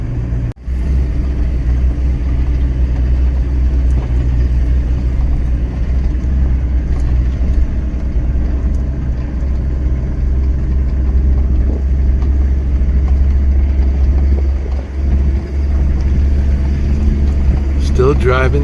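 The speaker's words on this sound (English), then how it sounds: "Still driving through this dry grassland with a little bit of savanna mixed in" A car driving through dry grassland with scattered savanna trees in Maputo National Park, producing a steady, loud engine and road rumble that holds unbroken for the whole stretch.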